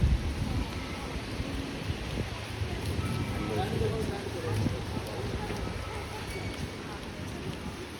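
Steady rain falls on a market street in Leicester, United Kingdom, a continuous close hiss of drops on pavement with faint street ambience underneath for the whole stretch.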